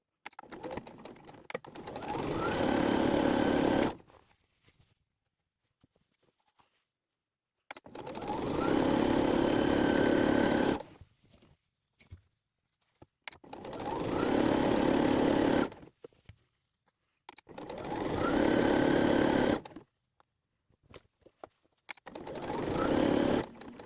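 A sewing machine basting pleats on a pinafore dress runs in five steady bursts of several seconds each, separated by quiet pauses, close and fairly loud.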